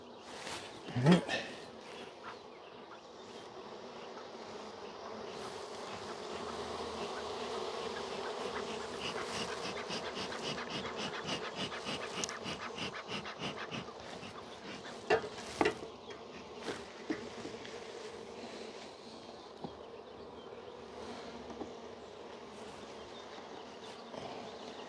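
Dense, steady buzzing of honeybees swarming around an open hive fills the whole stretch, with a few sharper close passes of individual bees and faint rustling underneath.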